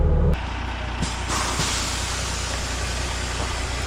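Skid steer working on a garage excavation, a steady engine drone with a sharp burst of hissing at the start and some faint clanks, heard close and continuous with no voices.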